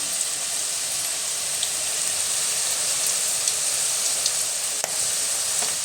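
Butter pakoda fritters frying in hot oil, a steady close bubbling sizzle with crackling pops throughout, no voices.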